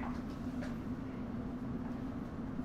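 A London Underground District line S7 stock Bombardier Movia train runs near Wimbledon, a steady low rumble with a sustained motor hum, heard continuously from inside the carriage without voices.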